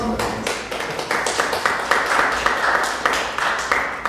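A small group applauds after a pharmacy thesis defense, individual claps distinct and irregular, building slightly and holding at close range with little talk.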